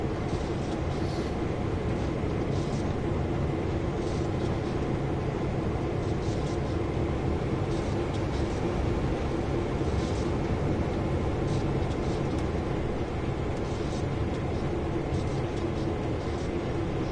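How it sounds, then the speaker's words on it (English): A tank train in Train Sim World 2 rolls past with a steady, dense rumble and faint rhythmic clicks from the wheels, sustained and even throughout. "Oh, it's a tank train."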